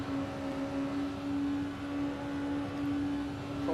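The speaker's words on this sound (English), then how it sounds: "Probably an LMP car." An LMP prototype race car in a racing video game, 12 Hours of Le Mans endurance event, holds a steady, droning engine note at constant pitch for several seconds, moderately loud with no voices.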